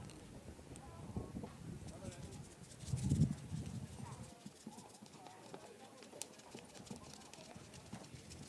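Horses' hooves clip-clop on the ground of a show ring at a mare inspection, a steady rhythm of muffled steps at moderate distance with one louder burst, under a background of crowd murmur and an announcer.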